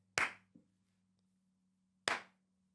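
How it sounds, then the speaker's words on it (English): Two crisp, isolated hand claps about two seconds apart, loud and close against near silence with a faint electrical hum. "Do we have to do the clapping?"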